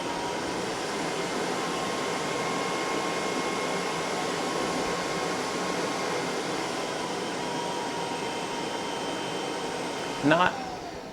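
Glowforge air filter fan cranked to full speed, a loud steady whooshing drone that holds constant for the whole stretch, ending with a brief click or knock near the end.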